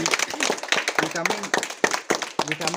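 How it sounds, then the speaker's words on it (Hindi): Students in a classroom clap in scattered, sharp bursts while a teacher's voice keeps talking close over the noise. "ताली बजाओ।"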